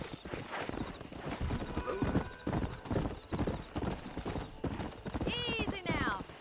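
Rapid clip-clopping of horse hooves at a gallop, with a neigh rising out near the end, while people talk over the riding in what seems to be a video game.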